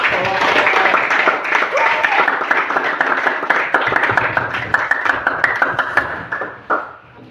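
An Indonesian classroom applauds during a guidance lesson, with busy clapping and scattered hand hits mixed with voices, which taper off near the end.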